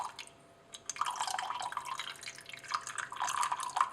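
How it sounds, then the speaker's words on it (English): A reaction mixture for phenylacetic acid is poured into a cold alkaline solution made with ice cubes and water, giving soft trickling and dripping liquid sounds that swell and fade over a few seconds, fairly faint and close. "Okay, let's add the reaction mixture."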